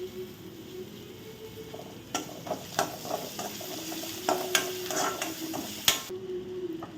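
Curry leaves and herb leaves dropped into hot oil for tempering in a jeera rice pan, giving a steady moderate sizzle with scattered crackling pops and spoon scrapes, no voices.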